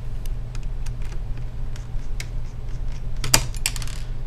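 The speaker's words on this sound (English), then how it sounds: "you're going to unscrew those four to six screws" Small metallic clicks and ticks from a screwdriver backing screws out of a Toshiba Satellite laptop screen bezel, a scattered run of faint taps near the mic with one sharper clack near the end, no talking.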